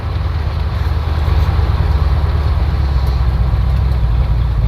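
Car engine idling at a red light, a steady low rumble held close and fairly loud, running a little high with no rev changes and no talk over it.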